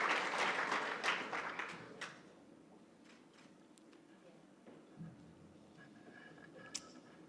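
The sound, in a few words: audience applause for award finalists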